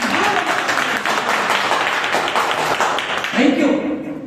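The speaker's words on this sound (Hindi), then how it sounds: "बजाओ जाओ ताली" Scattered audience applause at a business talk, a dense patter of clapping under a speaking voice, fading near the end.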